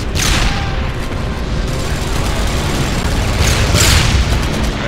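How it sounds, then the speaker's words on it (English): A tank blown up in the shooter game Enemy Front, a loud sustained rumbling blast with dense low-end roar and a few sharper bursts near the end, with no talk over it. "Blow up the tank."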